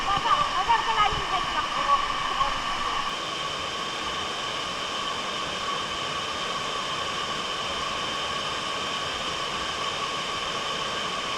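A waterfall with a strong current in Bolinao, Pangasinan roars as a constant, loud, hissing rush of falling water, with some busier splashing and voices in the opening seconds.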